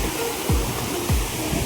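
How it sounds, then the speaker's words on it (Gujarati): Water pours down from above at a waterfall near dam gates by the Galdhara Khodiyar temple, making a loud, constant close-up roar with a couple of low thumps. "ઉપરથી પાણી પડતું છે."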